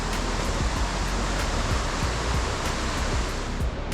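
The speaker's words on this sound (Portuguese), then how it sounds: "aqui Cachoeira da Sete, que ela continua ali à esquerda" Cachoeira da Sete waterfall near Sana, Macaé, Rio de Janeiro, roars as a steady, loud broadband rush of falling water, continuous throughout with no talk.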